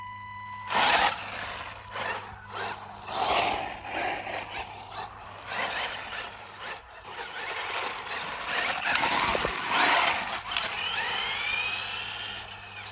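A new Tamiya Manta Ray RC car with a 19-turn motor runs on dusty ground, its electric whine rising and falling in bursts, fairly close and continuous, with gravel scuffing underneath.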